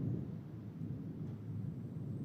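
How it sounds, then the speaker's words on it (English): A deep, continuous low rumble of thunder from a strong thunderstorm rolling steadily for a couple of seconds, with no distinct crack, heard from a distance. "this is a very strong thunderstorm rolling through the capital city right now"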